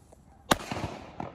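A single sharp firecracker bang, a Truenos Splash, loud and close, followed by a crackling, rumbling tail and a faint second pop, set off during San Juan celebrations.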